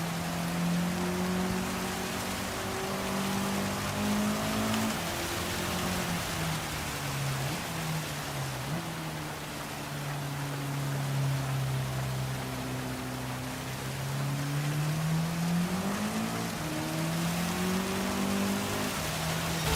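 Rain in a wet race in the video game Gran Turismo 7, a steady hiss of falling water over a car engine whose pitch climbs and drops with gear changes, no talking.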